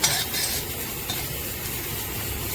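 Half a cup of grated coconut roasts in a pan for mutton curry, a soft steady sizzle with light stirring scrapes throughout, fairly quiet and close.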